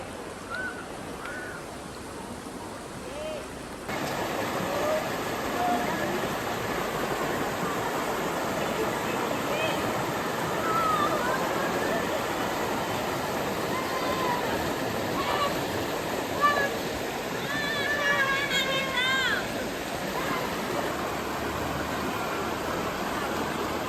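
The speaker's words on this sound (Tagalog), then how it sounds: "May batis pa, kompleto." A mountain stream in Palayan, Nagcarlan, Laguna rushes steadily, a dense broadband wash of water that continues throughout. It jumps louder after a few seconds and stays close and even, with faint background sounds on top.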